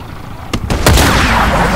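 Sniper rifle fired in the Black Ops Cold War video game: a sharp, loud report near the middle after a couple of softer thumps, trailing into a booming echo.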